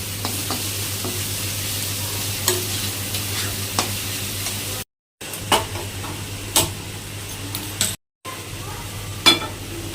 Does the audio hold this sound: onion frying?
yes